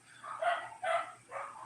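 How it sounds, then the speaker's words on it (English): Dogs barking outdoors in three loud, spaced bursts of a few barks each, fairly close. "Yeah, dogs, can you all be quiet out there?"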